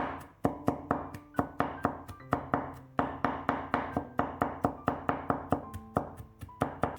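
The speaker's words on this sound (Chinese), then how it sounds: "再给它剁一剁，剁成蒜末" A knife chops and minces peeled garlic cloves on a cutting board in a quick, steady run of close, crisp thuds with brief pauses between bursts.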